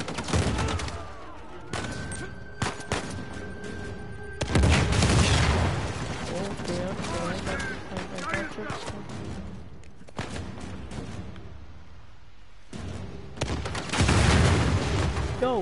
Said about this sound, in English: Grenades, man.